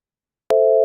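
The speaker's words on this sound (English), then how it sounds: "here's what the cosine minor chord sounded like" A synthesized minor chord built from pure cosine waves with a 440 Hz root sounds as one steady, clean tone. It switches on abruptly about halfway through after silence and holds evenly to the end.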